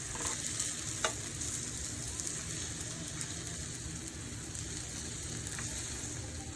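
Plantain sizzling on an outdoor grill during an outdoor cooking session in Guyana; a steady, close crackling fry with a few sharper pops, heard alone with no talk.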